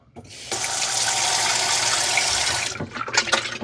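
Dirty water poured out of the tank of a Mova E40 robot vacuum into a sink, a loud continuous splashing rush lasting a couple of seconds, followed by short knocks and drips of rinsing.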